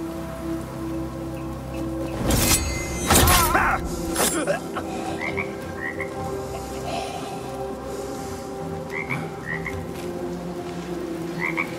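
Frog croaking in the Assassin's Creed Mirage video game, a few loud close croaks early on followed by fainter chirps over a steady patter of rain.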